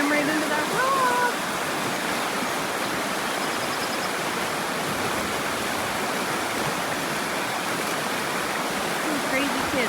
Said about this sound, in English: I have a little rapidy right here.